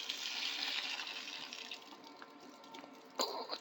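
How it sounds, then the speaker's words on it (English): Gasoline poured out of a rinsed, scaly gas tank runs in a steady splashing stream that tapers off, ending in a short louder splash. "We'll pour it out again."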